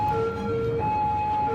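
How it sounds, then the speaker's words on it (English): Emergency vehicle sirens in the city-building game Cities Skylines 2 wail in steady alternating tones, loud and continuous with traffic noise beneath and no speech. "I need to turn off the sirens in this game."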